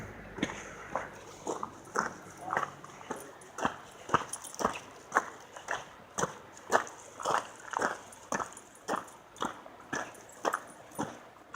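A loose dog on a river walk makes a steady run of rhythmic panting or padding sounds, moderately close and fairly quiet, with only faint traces of voices.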